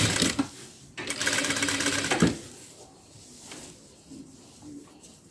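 A sewing machine stitches a puff sleeve onto an armhole: a short burst of rapid needle chatter, then a longer loud run of a second or so, before fading to quieter handling sounds.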